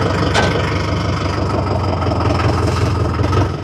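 A second-hand tractor engine idles steadily and loudly, a continuous low rumble with a brief sharper burst near the start and no talk.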